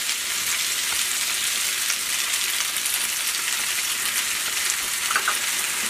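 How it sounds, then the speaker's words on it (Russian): Butter melting and chopped spinach frying in a skillet: a steady, bright, close sizzle running throughout, with small pops near the end and no speech. "Пока сливочное масло очень быстро сейчас тает на сковороде, я тут как раз шпинат измельчаю на крупные такие куски и отправляю его в эту сковороду."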